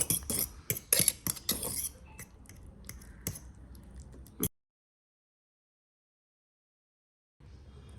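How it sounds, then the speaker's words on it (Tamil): Ripe banana being mashed with a utensil for a homemade hair pack, a run of quick wet clicks and scrapes against a bowl that thin out, then a stretch of silence before faint sound returns. "ஸோ இந்த ரைப் பனானாவை நல்லா ஸ்மாஷ் பண்ணிக்கோங்க"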